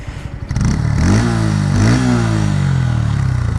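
A Bajaj Pulsar N150 motorcycle with an engine noise problem at high RPM revs hard up close, its pitch climbing and falling through repeated throttle blips, with a rough, buzzy, clattery tone.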